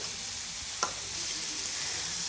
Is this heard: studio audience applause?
no